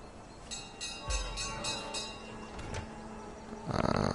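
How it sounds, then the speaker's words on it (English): A bell rung in the Hitman video game, a series of bright, evenly spaced metallic strikes with a lingering ring, heard amid game ambience and followed by a louder burst of noise near the end. "go ring the bell"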